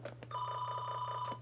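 A telephone bell rings steadily in a rapid trill across the whole moment, loud and close, over a constant low electrical hum, with no voices.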